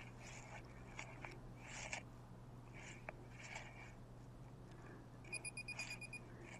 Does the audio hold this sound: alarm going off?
yes